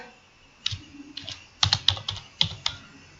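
Irregular clicks from a computer keyboard as a Python print statement is entered: a few scattered taps, then a faster cluster of sharp, close keystrokes, fairly loud with no voice.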